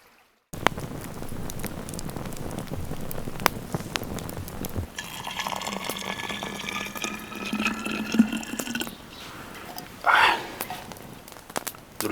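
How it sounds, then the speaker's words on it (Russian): Steady running water of a small stream trickling and gurgling close by near a forest cabin, a continuous soft wash with a few brief clinks and rustles on top. "слышно, как тут журчит ручей рядышком"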